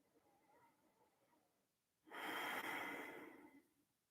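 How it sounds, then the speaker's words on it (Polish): A single slow breath during a guided meditation: quiet background at first, then a loud, close, airy exhale about a second and a half long that fades out gradually. "Pamiętaj oddechu, wdech i wydech."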